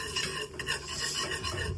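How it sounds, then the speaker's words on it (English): Flour mixture whisked in a bowl until smooth, a close, rapid scratchy swishing of the whisk that keeps a fast, even rhythm for a couple of seconds with no voices. "Whisk it until it's smooth."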